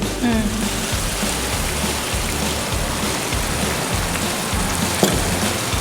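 Tamarind puree poured into a pan of sizzling baingan masala sets off a loud, dense, steady hiss, with a brief low bubbling burst near the start and a single sharp tap near the end.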